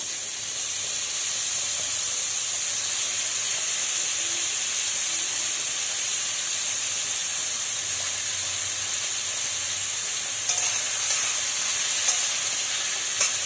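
Chopped bottle gourd hits hot oil in a wok already tempered with cumin seeds and dried chillies, giving a loud, steady sizzle that hisses continuously, with a few brief stirring scrapes near the end.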